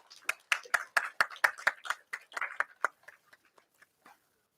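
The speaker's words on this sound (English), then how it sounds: "Please give a huge round of applause in welcoming, sir." A few people clap to welcome an associate dean of an Asian law college at a law dialogue event, with distinct sharp claps that are sparse and quick at first, swell briefly, then thin out to scattered single claps and stop.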